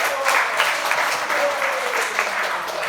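Audience at a devotional lecture breaking into brief applause, a moderate burst of many hands clapping that swells and fades over a few seconds.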